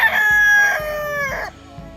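A Houdan rooster crows loudly and close in a long drawn-out call, overlapping with another Houdan rooster's crow, then fades to quiet.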